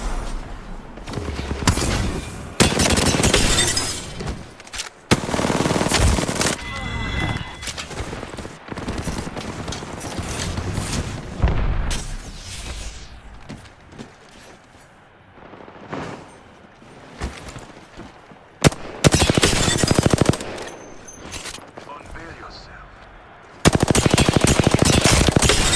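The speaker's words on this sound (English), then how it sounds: "2 people shooting at me with R3s" Bursts of R3 rifle gunfire in a first-person shooter video game, loud and close, with repeated rapid volleys separated by brief lulls and quieter stretches.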